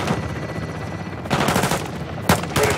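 Gun-run gunfire in the video game Call of Duty: Modern Warfare 2, a loud, rapid volley of shots in a few dense bursts separated by brief pauses.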